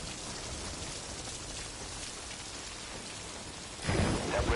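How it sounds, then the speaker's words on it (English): Steady rain hisses down in a constant wash in the video game Metal Gear Solid V: Ground Zeroes, with a sudden heavier burst near the end, like a gust or a distant thunder rumble. "That rain just won't let up."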